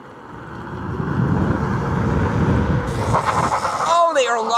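Hydraulic disc brakes on a bicycle, a DEEPS G415-4M four-piston set, rush steadily during braking and then break into a loud, wavering, high-pitched squeal toward the end.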